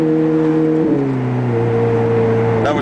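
A Ferrari F430 engine sounds close and loud from inside the car, a strong droning tone that climbs in pitch, settles at a lower note after a gear change and holds steady, with no voices.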